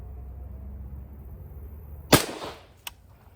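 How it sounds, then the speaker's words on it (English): A single Winchester .223 rifle shot from a 20-inch barrel: one sharp, fairly distant crack with a short decaying tail, followed by a smaller snap, over low background hum. "finally we have 5 shots of the Winchester 223 out of the 20-inch barrel"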